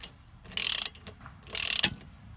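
A ratchet wrench clicks rapidly in two short bursts, close up, loosening the front strut nut on a 2010 Toyota Camry, with quiet pauses between.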